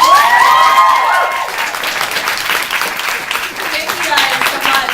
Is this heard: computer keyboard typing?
no